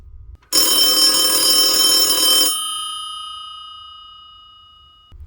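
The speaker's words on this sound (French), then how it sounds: "Le téléphone émit un petit" A telephone bell rings once as an audiobook sound effect, a loud bright metallic ring lasting about two seconds, then a long fading ringing tail trailing off into near silence.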